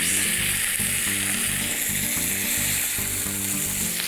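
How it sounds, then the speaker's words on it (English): Panko-crusted salmon fillet frying in a hot pan right after being flipped, a loud, continuous close sizzle with faint crackle, no voices. "I'm just going to cook it on this side for about 2 minutes and then flip it over"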